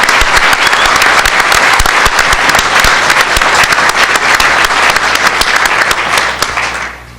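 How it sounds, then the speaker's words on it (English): A large crowd bursts into loud, dense applause at a public announcement between a governor and the Seneca Nation, with many hands clapping steadily before it tapers off at the end. "Let's give President Snyder a round of applause and the Tribal Council."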